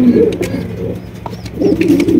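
Racer and magpie pigeons coo at a breeding farm, low rolling calls repeating close by in two bursts with a quieter pause between, plus faint chirps overhead.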